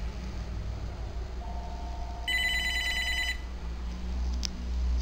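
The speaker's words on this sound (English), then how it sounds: "Another phone call." An incoming call sets a telephone ringing in a single bright, trilling burst of about a second, moderately loud over a steady low background hum.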